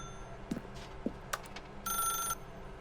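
A telephone rings in The Stanley Parable, a single burst of an old-style bell ring near the end over a low ambient hum with a few soft clicks before it.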